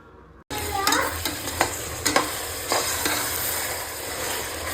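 Ground masala paste sizzles as it fries with greens in a home kitchen pan, a continuous hiss broken by several sharp scrapes and stirs of the spoon, close and loud.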